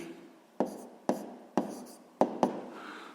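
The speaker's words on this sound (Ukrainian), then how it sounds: "зараз записуємо відповідь" A pen writing out a math answer by hand, heard as five sharp, close scratching taps spaced roughly half a second apart over a quiet background.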